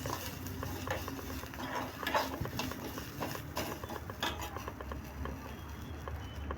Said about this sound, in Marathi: त्याच्यामध्ये आपल्याला आलं लसूण टाकायचं आहे, ते पण व्यवस्थित परतून घ्यायचं आहे.